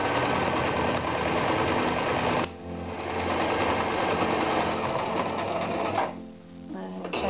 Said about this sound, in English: we move up to 4, and we sew them down to the next side